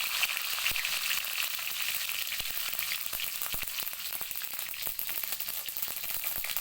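Mustard seeds and dried chilies sizzle in hot oil, a steady, close crackling hiss with dense tiny pops running throughout, no voices.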